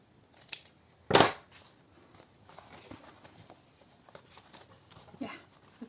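A single sharp snip of scissors through paper for a junk journal stands out close and crisp, with faint rustling and handling noises scattered around it.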